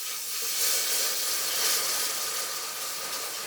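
Chicken broth hits a hot pan in a loud, steady hiss of steam and sizzle that swells briefly and then holds, close up with no talking.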